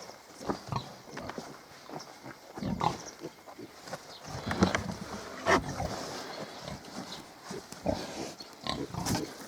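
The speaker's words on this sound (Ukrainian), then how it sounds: "Оце угорська мангалиця" Hungarian Mangalica pigs on a small farm, giving repeated grunts and snorts in short irregular bursts at close range, with shuffling and movement noises between them.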